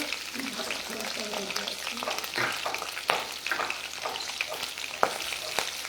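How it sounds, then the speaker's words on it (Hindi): Split green chilies sautéing in hot oil for chana masala, giving a steady crackling sizzle with irregular sharp pops and utensil clatter close up. "यहाँ पर ग्रीन चिली स्प्लिट किया हुआ सोते करेंगे"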